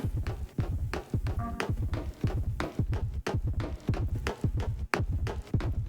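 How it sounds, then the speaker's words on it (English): A heavy, throbbing heartbeat sound effect from the Sonic and SEGA All-Stars video game thumps in a steady, regular rhythm of low pulses for several seconds, with no speech over it. "We only hear the footsteps and the heartbeat."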